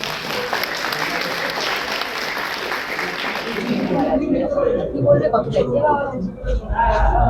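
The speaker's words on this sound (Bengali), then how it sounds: "একটু জোরে হাততালি পুরো টিমের জন্য" Applause for the film team at the Raja Rani Romeo premiere, a dense burst of clapping from a crowd that fades out as a person starts talking.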